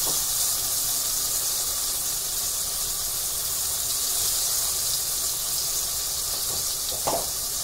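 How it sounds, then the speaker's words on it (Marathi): Masala paste dropped into hot oil for a spicy bangda (mackerel) fry gives a steady, loud, bright hiss and sizzle that holds constant, with a brief spoon scrape near the end. "तेल गरम झालेलं आहे. आता आपण त्यामध्ये मसाला घालून घेऊया."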